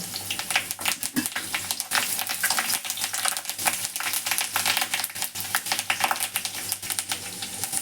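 Mustard seeds, garlic and curry leaves crackle in hot oil, a dense, close, continuous popping and spitting that fills the whole stretch with no voices.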